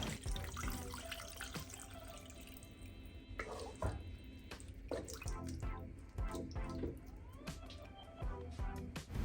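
Water pours into a pot of beef cooking in its own juices for ogbono soup, splashing and dripping with clinks of the pot and utensils in a quiet kitchen.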